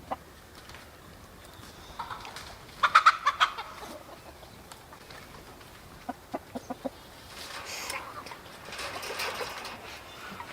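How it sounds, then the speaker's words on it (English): Splash Marans hens and roosters cluck and call in a chicken tractor outdoors, giving scattered sharp squawks and short clucking bursts over a steady background hum. "All these splash morans and the roosters are now inside this chicken tractor"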